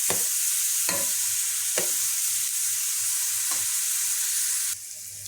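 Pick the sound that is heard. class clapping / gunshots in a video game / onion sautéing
onion sautéing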